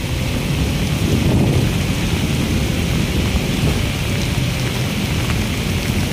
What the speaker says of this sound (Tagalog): habang bumubuhos po malakas na ulan